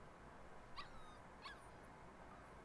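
A puppy in Life Is Strange 2 gives two short, faint, high whimpers about a second apart over quiet background hiss.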